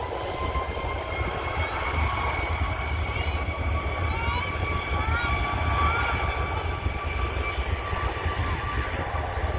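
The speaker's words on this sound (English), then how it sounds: "it's a Beechcraft King Air that's coming" A Beechcraft King Air approaches, a steady engine drone with sustained tonal whine held at constant level throughout, moderately near.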